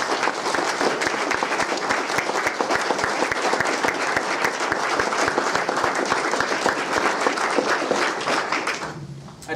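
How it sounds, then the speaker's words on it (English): An audience gives sustained applause for the artist Yisa at a mosaic unveiling and art exhibition. The clapping is loud and dense, holds steady, then tapers off in the final second. "I would like everyone to please join me in a round of applause to thank Yisa"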